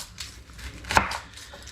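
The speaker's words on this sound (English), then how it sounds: "I need to chop up my onions and chillies" Onions and chillies being chopped on a board, a few soft knife knocks with one sharper strike near the middle, close and quiet.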